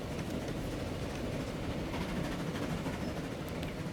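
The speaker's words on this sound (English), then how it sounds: "So that is the new train" A train runs on rails in the Transport Fever 2 railway simulation game, making a steady low rumble with faint rhythmic rail clatter. It stays constant and moderately distant throughout, with no voices.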